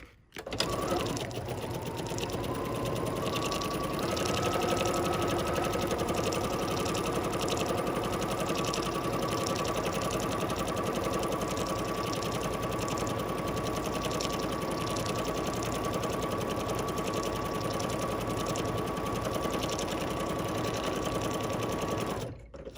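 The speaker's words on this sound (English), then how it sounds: "We're going to press pattern begin, and now we're going to stitch." An embroidery sewing machine stitches a sampler pattern, its rapid needle chatter running steady and close for about twenty seconds, with a faint motor whine underneath and no talking.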